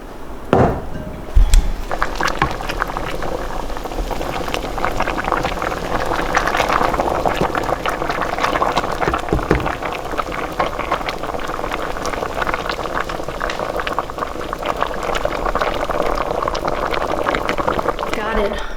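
Hickory bark tea boils vigorously in a pot, a steady bubbling and hissing that continues throughout, with a sharp clink near the start.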